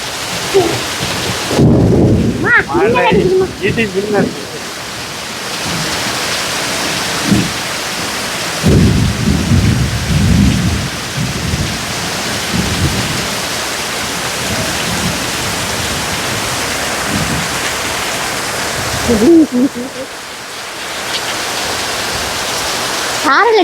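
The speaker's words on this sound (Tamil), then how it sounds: "சரியான மழை" Heavy rain pours steadily in Kozhikode, a loud continuous roar broken by deep rolls and rumbles of thunder. A voice is heard speaking briefly near the start.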